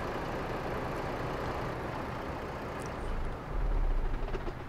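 A heavy truck engine idles in Euro Truck Simulator 2 while hauling 20 tonnes of musical instruments, a steady low rumble throughout that swells slightly louder near the end, with no talking.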